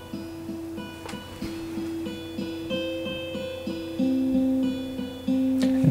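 Clean guitar intro played back from Guitar Pro, drenched in heavy delay: a steady, repeating picked pattern with echoing repeats stacking up, fairly quiet, with higher notes gradually layered in and no voices.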